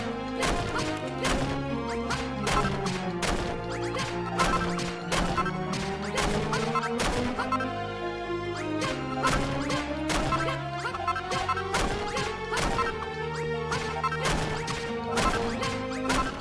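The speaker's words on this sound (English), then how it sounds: "I'm smashing too much dirt." Dirt blocks being smashed in Dragon Quest Builders: a steady run of sharp, crunching impacts repeating about once a second over a continuous tonal game music bed, close and clear with no talking.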